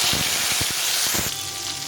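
A tomato frying in oil in a pan with spices, an even hiss of sizzling with a few soft stirring knocks, close and uninterrupted by talk.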